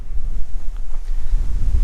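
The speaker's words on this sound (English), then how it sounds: "Bloody hell, it's windy" Strong outdoor wind buffets the microphone in a steady, loud low rumble with gusty surges, heard during a rest break on a Couch to 5K run, with no other sounds above it.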